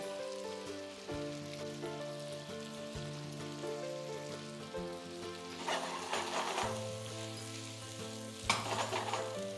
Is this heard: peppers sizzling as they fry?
yes